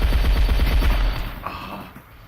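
Rapid bursts of gunfire from a shooting video game ring out loud and close for about a second, then fade to a quieter tail with a single faint shot near the end.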